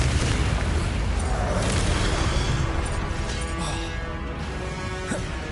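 Blasting-spell explosions in a Harry Potter video game, loud continuous booming and crashing blasts with rumbling debris, dense and sustained throughout.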